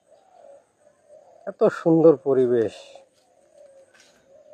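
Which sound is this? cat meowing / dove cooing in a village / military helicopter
dove cooing in a village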